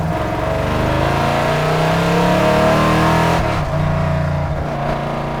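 A car engine revs steadily and loudly nearby, its pitch rising and shifting as it approaches, with a brief dip partway through.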